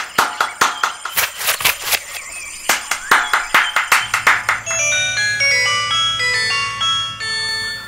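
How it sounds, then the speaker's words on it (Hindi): A phone ringtone plays a bright electronic melody after a burst of rhythmic clapping-like beats, fairly loud and close, with no one speaking. "बार बार फोन बजा था"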